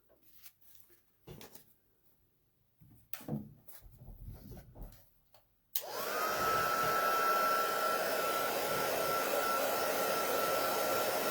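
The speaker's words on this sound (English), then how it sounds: "Now I'm going to take the heat tool and dry my pieces." A heat tool switches on midway and blows a loud, steady whooshing drone while drying craft pieces, after a stretch of quiet tabletop clatter and handling sounds.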